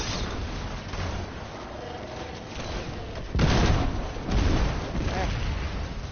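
Hand cannon and sniper shots in the Destiny video game, muffled booming blasts around the middle, layered under steady game ambience and a voice talking.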